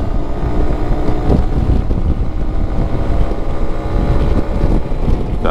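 A Suzuki Burgman 200 scooter accelerates at full throttle from a standing start, its engine a loud, steady roar heavily mixed with wind buffeting on the microphone, and no talk.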